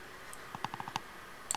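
A few quiet, close computer mouse clicks on a download link, a quick cluster of light taps followed by a short pair, with no talking.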